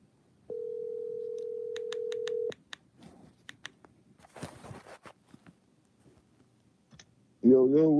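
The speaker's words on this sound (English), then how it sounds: "I'm about to hit your line right now, Williams." A phone line gives a steady dial tone for about two seconds, followed by a run of clicks and short tones as the call goes through, and a voice briefly comes in at the end.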